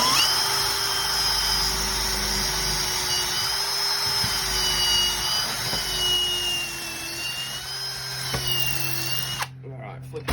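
A power drill fitted with an auger bores into the ground, holding a loud, steady whine with slight pitch wobbles for about nine seconds before cutting off abruptly.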